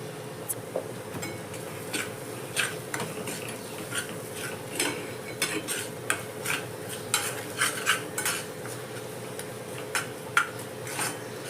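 Dum aloo puree stirred and mixed in a pan with salt added, a spoon scraping and clinking against the metal repeatedly in an irregular rhythm, close up over a faint sizzle.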